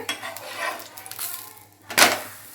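A flattened chickpea-flour dough is flipped on a metal pan for a curry, giving scattered light scrapes and clinks, then one louder clatter near the end, with no talk.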